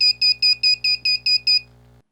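An alarm on an AT89C2051 DIY digital clock kit sounds eight sharp, evenly spaced high-pitched beeps close by, then stops abruptly over a faint background hum.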